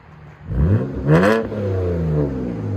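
A 2011 BMW 328i with a 3.0L inline-six and straight-pipe exhaust revs up hard, peaks in a sharp snarl, then drops back to a loud, steady rumble close by.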